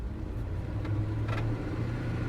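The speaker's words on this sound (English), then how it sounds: "Engine's idling at the stop." An engine idles at a stop, a steady low rumble with a constant hum and slight unevenness, close and continuous without speech.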